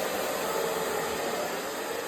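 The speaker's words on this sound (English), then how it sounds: "take the dryer, run it through, twist, run it through" A hair dryer blows in a steady, unbroken rush while curls are being refined, close and even with no talking over it.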